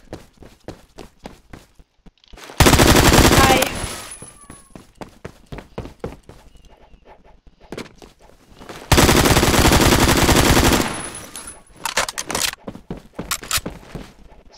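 Automatic AK rifle and shotgun fire in a Roblox zombies game mode come as two long, loud rapid-fire bursts, with quick footsteps and softer clicks and thuds between them.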